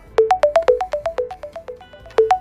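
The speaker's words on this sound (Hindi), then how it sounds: "लो, आ गया उसका फोन।" A phone ringtone plays a bright, repeating electronic melody of short plucked notes, loud and close, that stops briefly and then starts again.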